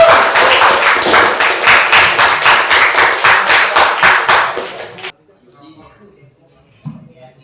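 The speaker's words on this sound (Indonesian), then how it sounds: "Aplaus dong buat kalian semuanya." Students in an Indonesian classroom give a round of applause, a brisk steady burst of many hands clapping close by for about five seconds before it stops abruptly, leaving faint room noise.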